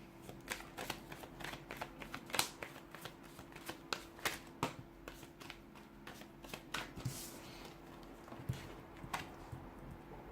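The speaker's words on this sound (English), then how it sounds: "let's give the cards a shuffle and let's begin." Tarot cards shuffled repeatedly in quick riffling bursts, crisp flapping clicks up close over a faint steady hum, no talking.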